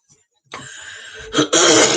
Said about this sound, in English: I do clear my throat a lot when I channel